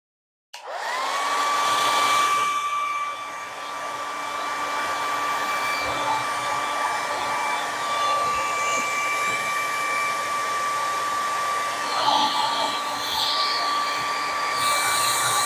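A hair dryer clicks on and blows a loud, steady whirring hiss with a constant whine over a painted display stand, holding its tone with small fluctuations as it is moved.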